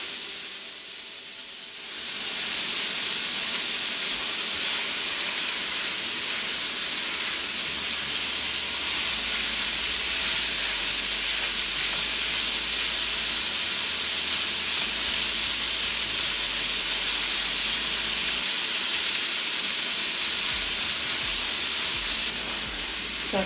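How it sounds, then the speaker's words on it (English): Carrots cooking in a pan on a stove set to 6, a steady broadband sizzle and hiss that starts after a brief quiet moment and holds evenly for the rest of the clip, with no talking. "So I'm letting my carrots cook for a little bit"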